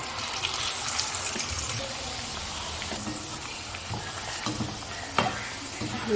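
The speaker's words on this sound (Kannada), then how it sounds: "ಇದನ್ನು ಫ್ರೈ ಮಾಡ್ಕೊಳ್ಳೋಣ" Food for Ganesh Chaturthi festival dishes frying crisply in hot oil, a dense steady sizzle with occasional stirring scrapes and bubbling pops, close and continuous.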